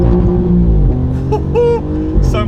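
An Alfa Romeo Giulia Quadrifoglio GTAm with its 2.9-litre V6 being driven: a loud, close engine note rising and falling through revs, with a few brief sharp bursts near the end.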